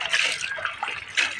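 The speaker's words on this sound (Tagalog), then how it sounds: "Hugasan ko na lang siya dahil madumi siya." Calamansi are rinsed under running water, a soft splashing hiss with small bursts as the fruit is moved about, brief and fairly close.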